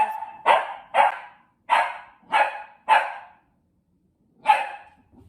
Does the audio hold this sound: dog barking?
yes